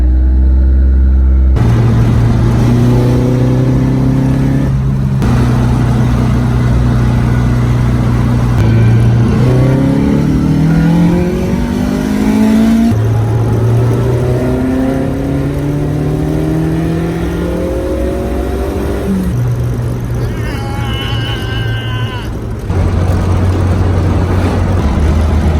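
A Toyota 3SGE engine fitted with 52mm individual throttle bodies, in a KE70 or TE72, revs repeatedly up to about 6,500 rpm, loud and close, rising and falling sweeps of engine pitch with no talking.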